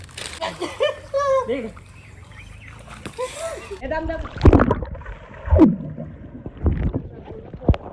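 Water splashes and sloshes in a resort swimming pool, with several sharp bursts standing out in the second half, while people talk nearby in the first part.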